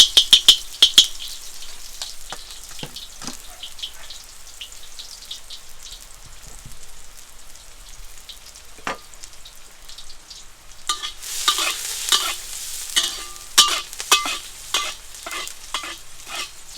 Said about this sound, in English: let it brown some. It doesn't take long because you have your wok on high heat.